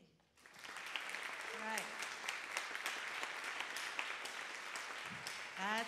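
An audience at a university concert choir performance bursts into clapping that swells quickly and holds steady, with a few voices talking over the applause near the end.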